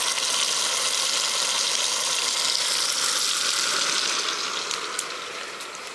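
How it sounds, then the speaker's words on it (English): Bacon frying in a pan on a Sunday morning, a dense, even sizzle that stays loud and close throughout with a few faint pops near the end. "I'm just doing the bacon here."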